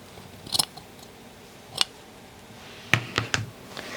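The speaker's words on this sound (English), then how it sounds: "So I'm trimming away the seam allowance by this shoulder seam here." Scissors trim the seam allowance at a shoulder seam of a neck facing, a few sharp isolated snips spaced apart, close and crisp over a quiet room.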